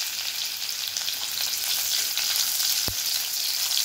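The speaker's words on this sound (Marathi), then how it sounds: "इथे मी 1 चमचा तेल घेते, इथे अर्धा चमचा जिरे टाकूया" Cumin seeds and crushed garlic crackle in a spoonful of hot oil, a bright continuous sizzle at close range with a single sharp tap partway through.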